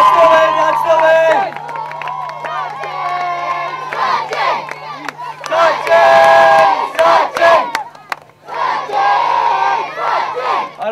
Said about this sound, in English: Come on, people, keep that applause going